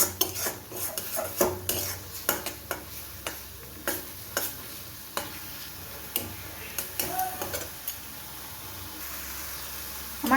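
Tomato chutney with sugar and dried mango leather being stirred in a pan, a spoon scraping and clinking against the metal in irregular taps over a faint, steady cooking hiss, no voices.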